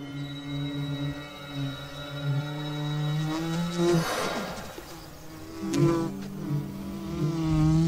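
A honeybee hums close by near a feeding hummingbird hawk-moth, a steady droning buzz that wavers in pitch as the insects move, rising briefly and then settling back.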